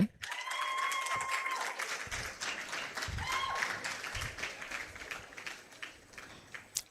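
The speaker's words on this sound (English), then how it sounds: "Keep clapping, please." Audience at a faculty dean's awards ceremony claps steadily through the hall, with occasional cheering voices and brief speech over the applause.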